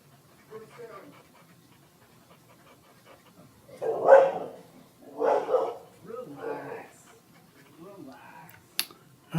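A dog barks outside in a few loud, close-together bursts, heard from indoors in a craft workspace, with a voice faintly present.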